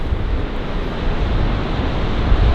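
Strong wind on a clifftop roars steadily across the microphone, a dense low rumble with gusty buffeting throughout and no voices.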